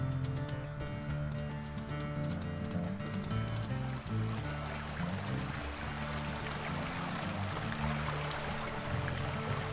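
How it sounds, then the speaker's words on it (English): Loud, steady rush of creek water runs unbroken through the Ironwolf hunting game, with a low droning layer underneath and no speech. "this creek is really loud"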